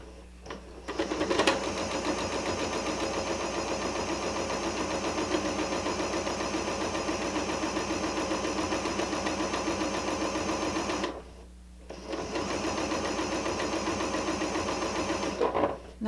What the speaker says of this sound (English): I'm going to top stitch along the selvage all the way down.